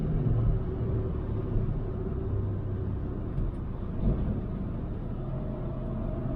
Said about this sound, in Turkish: Dörtte tapa gazdayım şu an